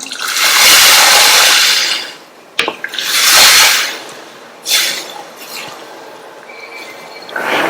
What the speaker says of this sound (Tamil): இது கூட 1 கப் அளவுக்கு தண்ணி சேர்க்கிறேன்.